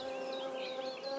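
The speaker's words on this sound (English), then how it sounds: "The mining bee finally leaves the nest, opening a short window of opportunity for our furry intruder." A mining bee lifts off from its nest in sandy ground and buzzes close and steady as it flies, a continuous insect drone that carries on throughout.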